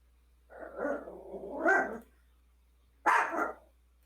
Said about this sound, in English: I hear doggy.